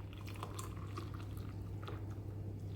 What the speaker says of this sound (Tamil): அப்படியே தண்ணியை மட்டும் ஊற்றுங்க.